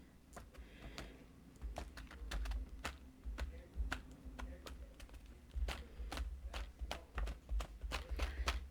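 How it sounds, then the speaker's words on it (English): A paint-loaded sponge dabs acrylic paint over a stencil, producing a rapid irregular series of soft close taps and pats with low thumps, quiet overall. "I'm just going to take my sponge with my paint on it and"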